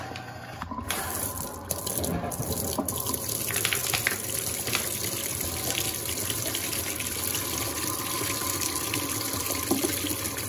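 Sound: Electrolux washing machine draining water

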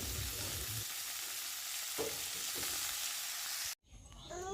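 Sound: greens frying with nigella seeds, green chili and garlic

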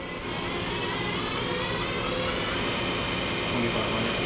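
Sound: Mori Seiki NLX-2500SY CNC turning center running at 1,000 RPM

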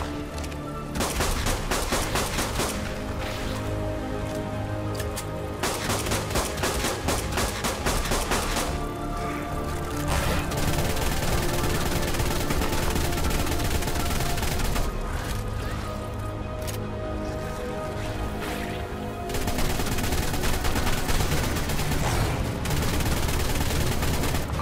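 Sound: shotgun shots from a video game

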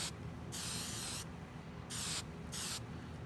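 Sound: hairspray can spraying over model side skirts

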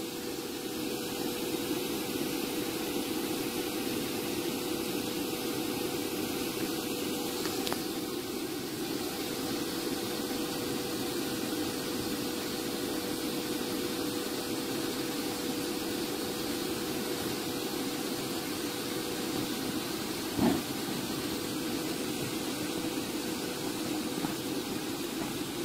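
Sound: electric blower inflating an inflatable movie projector screen

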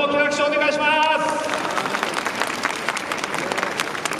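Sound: audience applauding racers at award ceremony

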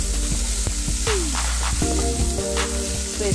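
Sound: onions frying for semolina upma

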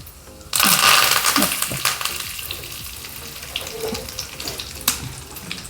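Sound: crushing curry leaves by hand into tempering

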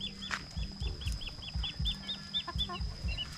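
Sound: chickens

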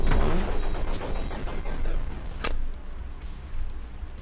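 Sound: explosions in a video game

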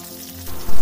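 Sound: chicken pieces frying in oil

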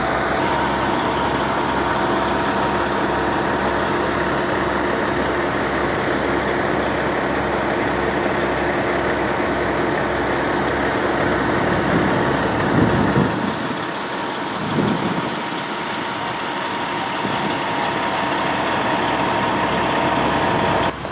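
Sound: fire department water truck engine

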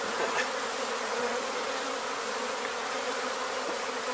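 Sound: honey bee swarm buzzing

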